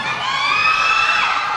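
An audience at a live concert press conference in Bangkok cheering, with loud high-pitched screams and whoops from a crowd sustained throughout.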